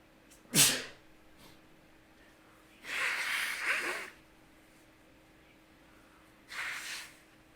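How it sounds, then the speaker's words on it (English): A loud, sharp human sneeze bursts out, followed by two more breathy snorting exhalations, heard close and alone against a faint background hum. "hang on, I'm gonna sneeze."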